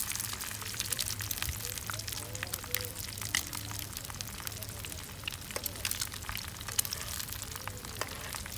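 Eggs frying in a pan give a steady, faint crackling sizzle with scattered pops, heard close beneath occasional low voices.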